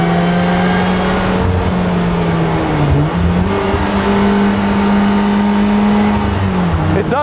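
A Rezvani Beast Speedster's engine whines loudly at high revs, a sustained tonal drone that rises and dips with the throttle, steady and close throughout.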